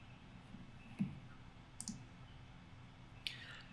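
Faint, quiet computer mouse clicks come as a few isolated taps over a low background hum, with no talking.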